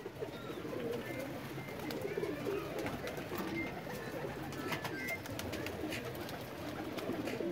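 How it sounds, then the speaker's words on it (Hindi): Sherazi pigeons caught in a net trap coo softly in a low, continuous murmur, with faint clicks and rustling in the background. "जाल में कबूतर काफी है।"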